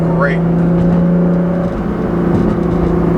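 A 2015 Nissan GT-R with a loud Meisterschaft exhaust, tune and GFB blow-off valves gives a steady, loud engine drone from inside the car, with a brief rising whine early on.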